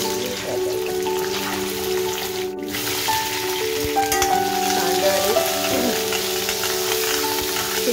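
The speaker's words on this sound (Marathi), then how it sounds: "बटाट कशी फ्राय करते, म्हणजे कशी टाकते" Potatoes frying in a pan give a continuous, close sizzle with light popping bubbles. Background music plays underneath.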